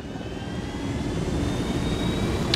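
A striped, wasp-like helicopter in the Ghost Recon Wildlands Narco Road video game gives a loud, continuous rushing engine roar with a steady whine, close and alone without talk.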